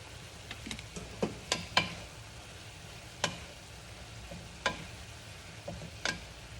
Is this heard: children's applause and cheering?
no